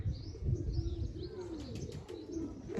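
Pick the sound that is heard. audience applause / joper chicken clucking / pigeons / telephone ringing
pigeons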